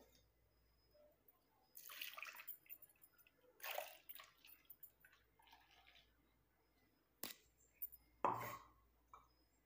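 Ground hibiscus flower paste is rinsed through a sieve with a little water, giving faint, sporadic splashes and pours in separate bursts against a quiet background.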